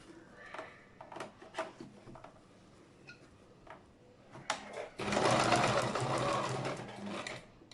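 A sewing machine stitches fabric for a homemade hat, its dense, steady whir running loud and close for the last few seconds after scattered handling clicks and taps.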